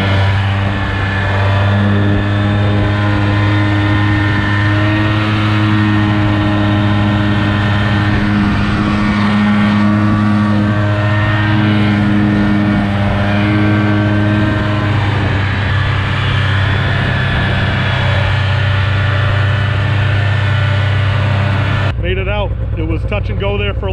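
A snowmobile drives across a snow-drifted frozen lake in northern Maine, its engine droning loud and steady with rising and falling revs close by before stopping abruptly near the end.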